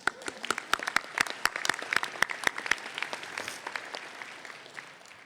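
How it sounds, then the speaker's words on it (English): Scattered audience applause at a medical school commencement ceremony, a run of sharp individual claps that thickens into a light crowd patter, then thins and fades over a few seconds. "Let's give her a round of applause."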